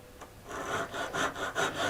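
A hand saw cuts a rabbet in wood, with about seven rhythmic rasping push strokes, close and moderately loud with no voices.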